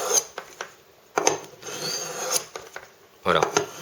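A knife blade is drawn through a Lansky Blade Medic pocket sharpener in several short, close rasping strokes with brief pauses between them.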